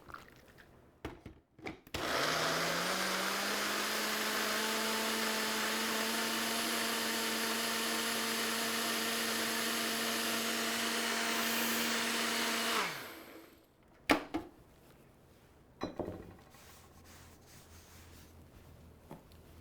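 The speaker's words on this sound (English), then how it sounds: "Put our blender top on. Just give this a blitz." Blender whirring steadily as it blitzes a raw vegan green salad dressing, a loud continuous motor drone lasting about ten seconds before cutting off, followed by a few clunks.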